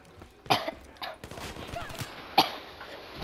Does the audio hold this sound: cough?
yes